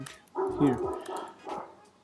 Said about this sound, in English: Sorry for my dog out there barking.